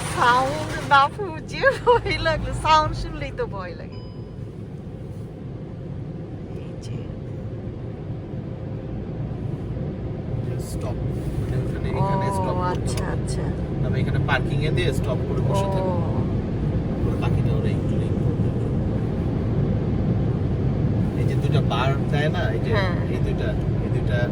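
An automated car wash in Canada runs around a car from inside: a steady, loud rumble of machinery with rushing spray and hiss that builds and holds, while people talk over it in the cabin.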